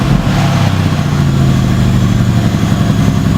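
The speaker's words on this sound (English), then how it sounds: "all you hear from the exhaust is the slight whistle of the turbos over the low rumble of 8 cylinders firing away." A Brabus-tuned Mercedes-Benz E-Class cabriolet V8 idles with a loud, steady low rumble of eight cylinders firing, a faint turbo whistle riding above it throughout.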